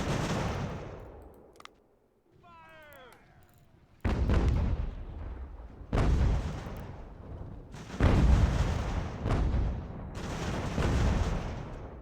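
Musket and artillery volleys in the Ultimate General: American Revolution battle of New York and Fort Clinton come as loud, booming bursts every couple of seconds, separated by a short lull that carries a high whistling tone.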